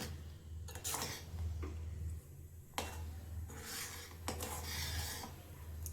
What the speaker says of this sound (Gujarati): હવે ઉપરથી આપણે ડ્રાયફ્રૂટ એડ કરી દઈશું. એને પણ સરસ રીતે હલાવી લેશું.